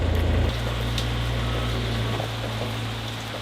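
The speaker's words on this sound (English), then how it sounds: "I guess the heavy rain has come early" Heavy rain pours down in a dense, unbroken hiss, with a low steady hum beneath it and no one speaking.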